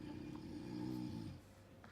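A man snores nearby in a quiet room at night, one long rough rasping breath that swells and then fades, fairly faint.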